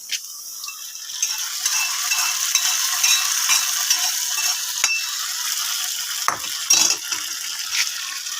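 Mustard seed, onion and curry leaf tempering in hot oil is poured into Kerala-style jackfruit curry: a steady, close sizzle with stirring, and a few louder scrapes and clatters near the end.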